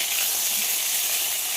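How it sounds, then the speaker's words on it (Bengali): Pointed gourd (potol) pieces frying in hot oil over high heat, a steady bright sizzle and hiss that runs unbroken and fairly close, with no talking. "পটল আমি খুব ভালোভাবে ভেজে নিয়েছি"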